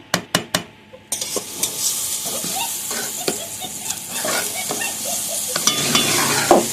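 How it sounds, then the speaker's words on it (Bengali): Khichuri being stirred in a pan with a spoon, scraping and clinking over a steady hiss of sizzling, with a few sharp taps at the start. "একটু ঘেটে দাও"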